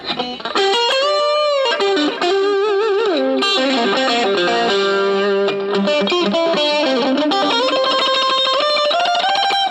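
An electric guitar played through a NUX Mighty Lite BT mini Bluetooth amp with gain at maximum gives heavily distorted, sustained notes and bends, loud and continuous, with no talking.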